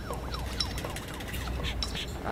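Wailing fire truck siren from the SimCity city-building game, rising and falling in repeated sweeps over a dense, steady game soundscape with scattered clinks.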